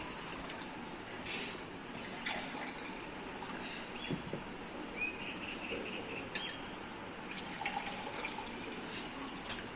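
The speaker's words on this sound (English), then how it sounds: "We will pour half glass of water in each glass." Water poured from a jug to half-fill several glasses, a soft trickling stream broken by small splashes and faint clinks of glass, close and fairly quiet.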